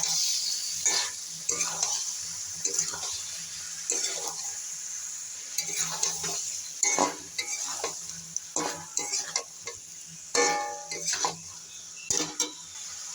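Boiled jackfruit and prawns fry in a pan, a steady sizzle punctuated by frequent scraping and clattering spoon strokes against the pan, close and fairly loud.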